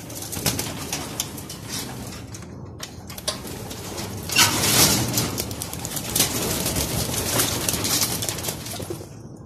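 Pigeons coo softly nearby amid rustling, scratching and flapping movement, a busy cluster of bird sounds with no voices.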